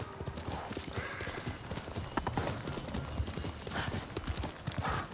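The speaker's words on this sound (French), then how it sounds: "Pouah, les bons qu'il fait ce cheval," Horse hooves gallop in steady rapid clip-clop across the whole stretch, close and loud, in the samurai action game Ghost of Tsushima, with a brief whinny-like cry and faint speech mixed under the hoofbeats.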